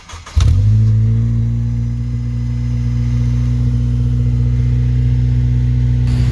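A Honda Civic Type R Premier Edition engine with an aftermarket kit starts and settles into a loud, steady drone with a slight dip and rise in pitch, heard close with no talking.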